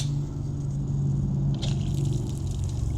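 Water rushing out of an Active 2.0 pressure washer hose, a steady continuous spray with a low pump drone underneath, loud and close, shifting slightly in tone partway through.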